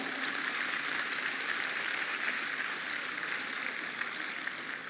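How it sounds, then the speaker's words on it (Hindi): A large audience of women at a Kolkata city women's conference at Science City claps continuously, a steady even wash of applause heard from a distance and moderately faint, with no talk over it. "ऐसी मेरी बहनों अपने लिए जोरदार तालियां बजाओ।"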